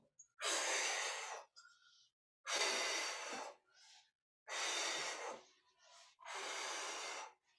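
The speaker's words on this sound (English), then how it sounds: "making sure that we are breathing" Heavy, close breathing during a seated chair stretch exercise: four long, loud, evenly spaced breaths with short quiet gaps and softer breathy sounds between them, no talking.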